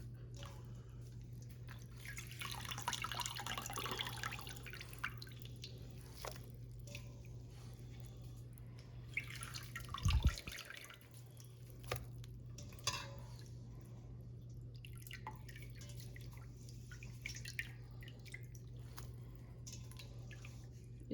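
Soaked dahi bara gently squeezed by hand to press the water out, giving soft, wet squishes and drips in a few quiet bursts over a steady low hum.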